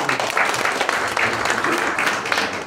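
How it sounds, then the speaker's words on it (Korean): Sustained applause fills the hall as an audience at an environmental awards ceremony welcomes a saxophone performer, steady and dense throughout with no breaks. "큰 박수로 부탁드립니다"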